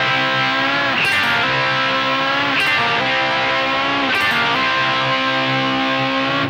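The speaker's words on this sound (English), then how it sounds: "the double stop bend and the back picking here" Distorted electric guitar plays double-stop bends, three repeated bent phrases with a sustained, sliding pitch, loud and alone.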